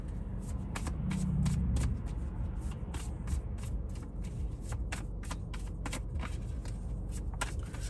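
A deck of tarot-style reading cards being shuffled by hand, a steady run of crisp riffling flicks close up, with a brief low rumble early on and no talking.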